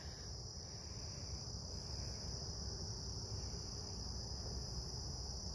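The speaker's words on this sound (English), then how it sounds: "Listen to those crickets." Crickets chirp continuously in a wetlands area, a dense, steady high trill at low volume with no breaks and no voices.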